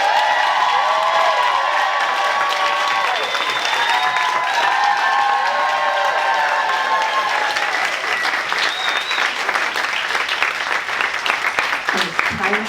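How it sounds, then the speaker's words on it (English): Sustained audience applause at a fan convention panel, loud and continuous throughout, with cheering and voices mixed in and some talk over the clapping. "One more round of applause for the PentaParents."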